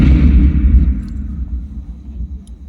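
Deep booming rumble of Mughal cannons firing in battle, loud and low, with a heavy blast that slowly decays into a rolling echo over a few seconds.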